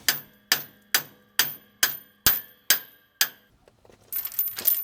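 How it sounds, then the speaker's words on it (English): A hammer drives a pin into a protection chain on a FAE forestry mulching head: eight sharp, ringing metal strikes at an even pace, each decaying quickly, followed by softer rustling. "that would hold the chain in place while I drove the pin in"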